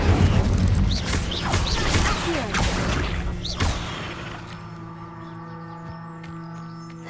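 An Incendio fire spell is cast in the video game Hogwarts Legacy, a loud roaring blast with crackling bursts and whooshes that ends abruptly and gives way to a quieter tonal musical hum.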